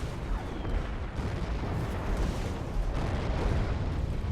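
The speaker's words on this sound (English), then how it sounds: "This artillery warfare requires that the troops hold their ground beneath every barrage" World War I artillery barrage: a continuous, dense roar of shell explosions and booming detonations rumbles heavily and loudly throughout, with no distinct pauses between blasts.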